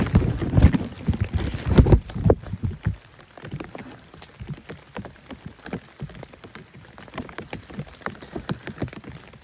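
Heavy rain pours down at night in dense, irregular pattering and splashing drops on nearby surfaces, loudest in the first seconds and then settling into a steady close-up drumming.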